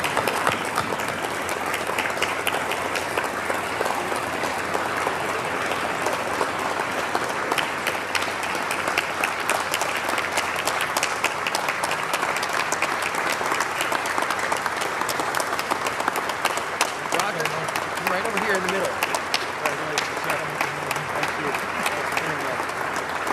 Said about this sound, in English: Ladies and gentlemen, please give a round of applause as we welcome Roger Madsen to the awards table.